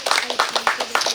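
Audience clapping for the resort and hotel staff at a national women's art camp, a burst of hand claps with irregular, fairly close strikes over about a second.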